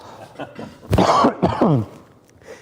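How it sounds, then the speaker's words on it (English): A single close, harsh cough bursts out in two quick spasms, then fades into quiet room noise. "Here's I'm about to cough."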